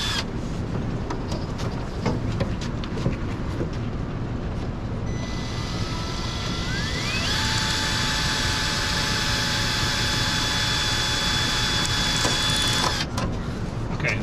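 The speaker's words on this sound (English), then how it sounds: "Then we're going to use this die grinder." A die grinder whirs loudly in a metal shop, enlarging a hole as part of mocking up a Daytona nose and wing, its steady high whine rising in pitch and holding over a dense background rumble before cutting off near the end.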